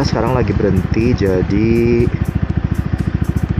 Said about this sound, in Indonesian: Dan knalpot saya juga lumayan rada berisik, tapi nggak berisik banget.